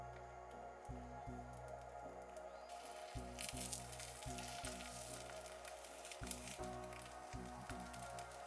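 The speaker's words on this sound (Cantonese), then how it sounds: "跟住我哋煎太陽蛋，落少少油，落咗蛋先再開火" A sunny-side-up egg fries in a little oil in a pan, a soft, close sizzle that swells after a quieter opening, with a faint repeating low tone underneath.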